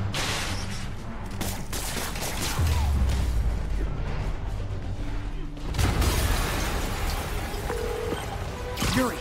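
Explosions and crashing debris in the video game Spider-Man Remastered, a dense run of loud bursts and impacts with deep booms around the middle, continuing steadily without speech.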